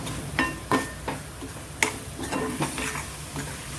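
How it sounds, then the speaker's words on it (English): A spoon stirs sambar ingredients in a pot for a Kerala recipe, giving a string of scraping, clinking strokes at an uneven rhythm over a soft sizzle, close and fairly loud. "Mix it well."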